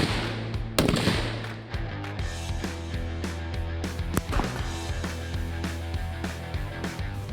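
Ruger SFAR rifle firing at an outdoor range while zeroing at 50 yards, a string of sharp, loud gunshot cracks at irregular intervals over a steady low hum.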